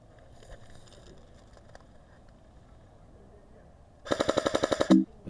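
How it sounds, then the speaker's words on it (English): An airsoft AK rifle fires one fast full-auto burst of about eight rapid shots in a woodland game, loud and close after several seconds of quiet outdoor rustling. "Needed the full auto of the AK to get through the bracken there again."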